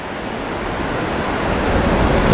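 Ocean waves wash onto a rocky shore as a continuous broad rushing roar, steadily swelling and fairly loud, with no voices.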